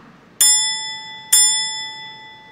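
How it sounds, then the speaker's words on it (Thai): A warning bell marking three minutes gone in a timed presentation strikes twice, each ring a bright, clear tone that decays slowly, with quiet between the strikes. "แล้ว3นาทีจะมีเสียงเตือนดังแบบนี้ค่ะ"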